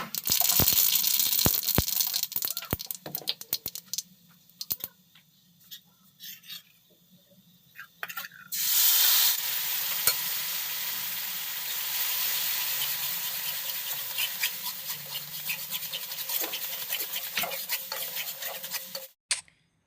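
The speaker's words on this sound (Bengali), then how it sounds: "এরপর তেঁতুলের পাল্পটা ঢেলে মিশিয়ে দিচ্ছি।" Tamarind pulp hits hot oil tempered with dried red chillies and black cumin for a sweet-sour chutney, raising a loud sizzling hiss amid clattering spoon strokes, then a brief lull before steady frying hiss and stirring continue.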